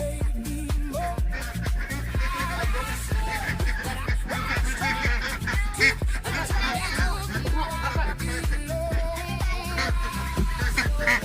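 A flock of ducks quacks and honks continuously, close and busy, with a person speaking briefly.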